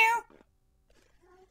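A cat lets out one loud, tonal meow at the start, followed by faint, scattered murmurs and quiet tones.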